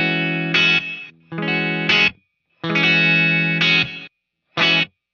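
An electric guitar played through the Searchlights reverb on a Line 6 HX Stomp, with loud distorted chords in four bursts separated by short gaps and a shimmering tail hanging between them.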